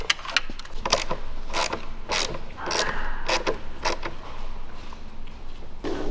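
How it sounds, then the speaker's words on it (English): A ratchet wrench tightens a bolt while a VelossaTech RGB headlight ram intake is being installed, giving about ten short, sharp bursts of clicking in an irregular rhythm, close and loud over a quiet background. "I'm gonna go ahead and tighten it down the way it is right here"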